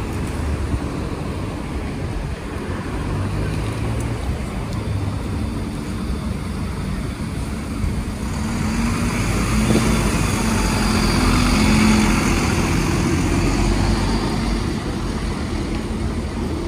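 On board a Volvo B9TL Wright Gemini 2 double-decker bus on route 131, a steady engine drone and road rumble continue throughout, swelling slightly louder midway as the bus pulls along, with no talking.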